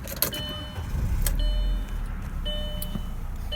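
A 2001 Audi A4 1.8T Quattro sedan with high mileage pulls away, its engine a steady low rumble with faint whirs and clicks from the cabin, no talking.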